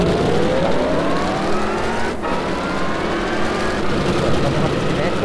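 Ford Mark IV race car from 1967, mid-engined and rear-wheel drive, driven in Gran Turismo 5, a steady loud engine whine with rising tones as it revs through gears, heard continuously under someone talking.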